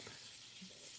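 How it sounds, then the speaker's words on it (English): Food fries in a pan, giving off a soft, steady sizzle with faint crackles that stays low and close, heard on its own. "Oh, we're frying food, y'all."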